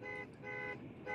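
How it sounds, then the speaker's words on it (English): Short repeated car horn honks, three faint toots in quick succession, heard over a radio link during a ham radio ragchew. "Give us a honk."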